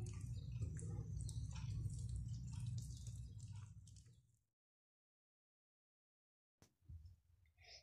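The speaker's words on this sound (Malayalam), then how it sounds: "ഇനി ഇതൊക്കെ കൂടെ നന്നായിട്ടൊന്ന് കൈകൊണ്ട് യോജിപ്പിച്ച് കൊടുക്കാം." Marinated chicken with yogurt, maida flour and cornflour is mixed by hand for broasted chicken, giving close, wet squishing and squelching for several seconds, then silence, then a few more soft squishes.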